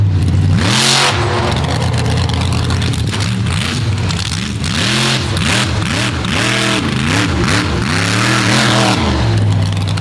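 A monster truck at a Throwdown event at Dragway 42 revs hard after a rough landing, its engine roaring loud and close through repeated rising and falling surges as it drives off.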